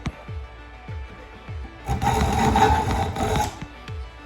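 Hand file rasping along a dagger blade, a few light isolated strokes followed by a sustained, close, gritty scraping burst.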